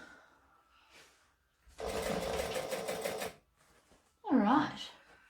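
A sewing machine runs in one steady burst of about a second and a half, top stitching a thick seam on a garment. Brief quieter sounds come before it and a short voice follows.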